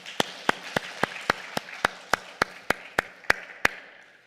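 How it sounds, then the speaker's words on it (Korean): Rhythmic clapping from a church congregation at a Korean fasting prayer house, praising God; a steady, evenly spaced beat of sharp claps, fairly soft, with no talk over it. "우리 하나님께 감사와 영광 박수 올리십니다"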